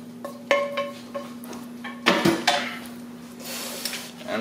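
Spoon scraping and clinking against a bowl while hoisin-coated sweet potato topping is gently mixed, a series of light knocks and scrapes over a steady low hum, with a voice speaking briefly.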